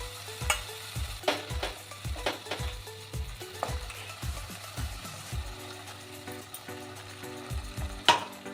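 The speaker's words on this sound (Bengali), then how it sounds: "টমেটোটাও খুব ভালো করে আমি কষিয়ে নেব" Tomato paste cooking down with spices in a pan, a soft low sizzle under a run of rhythmic scraping and stirring strokes, several per second, close and without speech.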